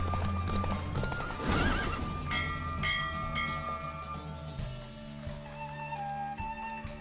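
In The Witcher 3 video game, a horse races with rapid, close clip-clop hoofbeats and lets out a loud neigh, over a continuous game soundscape.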